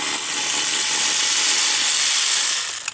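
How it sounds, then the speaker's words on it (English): Bolt being loosened on the transmission case of a 2013 Mini Cooper R56 Getrag six-speed manual gearbox, a steady loud mechanical whir or ratcheting for about three seconds before it stops. "now it should just be a matter of removing the bolts all around the top"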